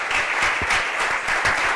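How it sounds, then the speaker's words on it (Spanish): A seated audience at a round-table event on Andalusian gastronomic culture applauds, a dense, steady wash of many hands clapping for a couple of seconds. "Un aplauso para él."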